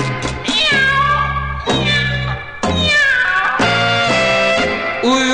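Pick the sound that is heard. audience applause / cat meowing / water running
cat meowing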